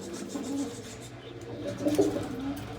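Domestic pigeons coo in soft, low, throaty phrases, close by, with a slightly louder burst of cooing near the end and faint background noise.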